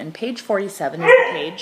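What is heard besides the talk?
dog barking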